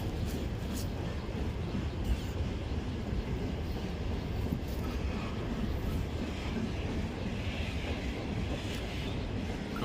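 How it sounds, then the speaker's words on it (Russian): A seemingly endless train rolls past near a restricted zone on Zelyony Island, a steady, dense rumble of wagons sustained at even loudness for the whole stretch with no break. "Какой-то поезд бесконечный."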